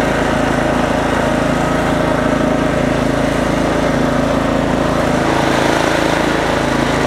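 A Sears Craftsman Troy-Bilt 30-inch rear-engine riding mower runs steadily nearby, its small engine making a loud, constant drone with no breaks and no speech.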